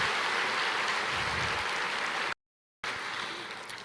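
A church congregation applauding, a dense, steady wash of clapping that breaks off briefly and then resumes, fading slightly toward the end.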